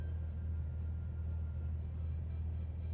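Idling cars in stopped traffic on the A1 make a constant low engine rumble, close and unbroken, with no voices present.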